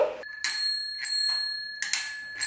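A child's bicycle bell rings in three short bright dings at close range, spaced about half a second apart, each ring fading quickly, with no talk over it.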